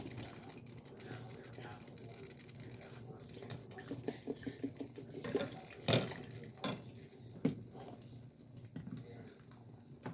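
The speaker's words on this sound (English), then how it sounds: "Next, we're gonna pour some heavy cream." Heavy cream poured into a pot of binignit, a sweet coconut dessert, gives a steady watery trickle with a slightly louder splash near the middle and end.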